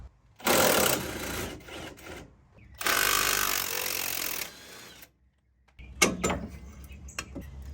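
Socket and wrench ratcheting on a Rough Country truck shock mount, two long rapid clicking runs separated by a pause, followed by scattered metallic clanks and knocks.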